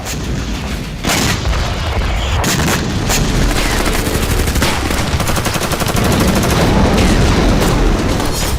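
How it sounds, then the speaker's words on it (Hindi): War footage from Ukraine is dense with gunfire and shelling: sharp shots and rapid machine-gun bursts run nonstop over heavy booming artillery, loud and continuous throughout, with no speech. "डोनेस्क में यूक्रेन की गोलाबारी जारी है, तो वहीं सूमी पर भी रशियन फोर्स का बारूदी प्रहार थम नहीं रहा है।"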